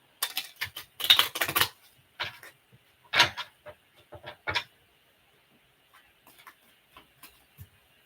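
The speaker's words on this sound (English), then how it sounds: "It's a little harder to shuffle these cards." Tarot cards are shuffled by hand in irregular bursts of crisp riffling and tapping, clustered early and then thinning into sparse, soft clicks.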